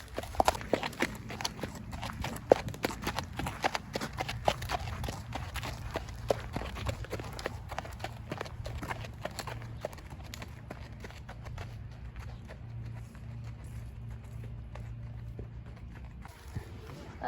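A ridden horse's hooves clip-clop in a steady walking rhythm on the way to a show, close and fairly faint, with light background noise and a brief pause near the end.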